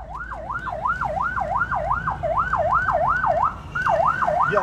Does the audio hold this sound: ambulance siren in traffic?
yes